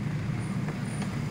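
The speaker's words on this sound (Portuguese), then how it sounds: "bastante trânsito aqui na cidade" Steady low rumble of busy city street traffic in the small town of Monte Sião, Brazil, with engines droning continuously and no voices, heard briefly.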